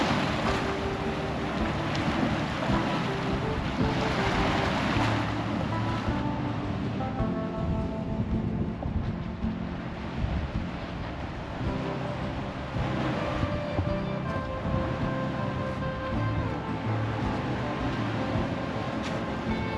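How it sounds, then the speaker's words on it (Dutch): Sea water surging and washing beneath rocks at Playa de Mazarrón, a continuous rushing, roaring wash of waves and wind, close and steady with gentle swells in loudness. "Het water loopt hier onder de gratten door."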